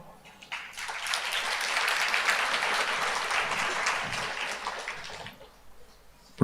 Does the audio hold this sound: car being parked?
no